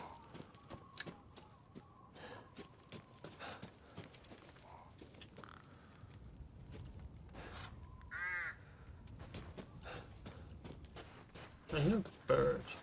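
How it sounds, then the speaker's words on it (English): A bird calling in Resident Evil Village, a few harsh crow-like caws and a brief warbling call amid outdoor game ambience with footstep-like thumps, with a person talking intermittently. "I hear a bird."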